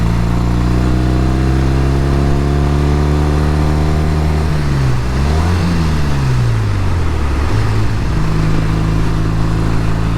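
A 1969 Triumph T120R motorcycle engine, in fabulous condition, runs loud and close throughout, its steady revs dipping and swooping mid-way before settling back to a strong even idle-rev.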